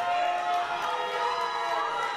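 A wrestling crowd cheers and roars continuously at a Crossfire Wrestling show, a dense wash of many voices filling the hall without pause.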